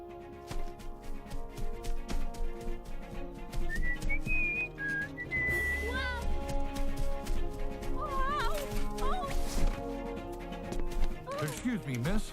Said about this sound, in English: why were you whistling like that?